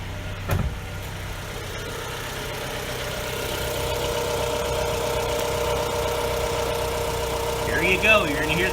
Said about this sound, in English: I'll let you hear the intake side.